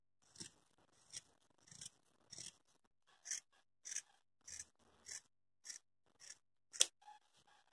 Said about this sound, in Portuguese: Que aí eu corto em cima da linha e fica mais fácil.